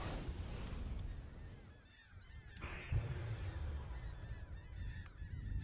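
Birds honk repeatedly in the video game Megaton Rainfall, a flock of faint, overlapping goose-like calls over a steady low rumble.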